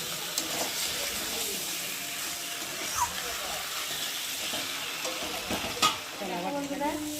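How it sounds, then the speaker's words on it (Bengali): Chicken with spices being stir-fried in a pan for Bengali chicken kosha, giving a steady close sizzle with scraping stirs and occasional clatters of the spatula; no one speaks over it. "চিকেনটা ভালোভাবে কষিয়ে নিয়েছি, দেখো কত সুন্দর কষানো হয়ে গেছে।"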